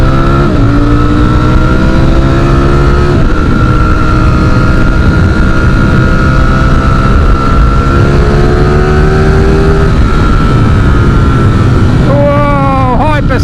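A 2023 Ducati Streetfighter V4 engine pulls hard in fourth gear, a loud, close, continuous roar rising steadily in pitch, dipping briefly at shifts, with wind rush throughout.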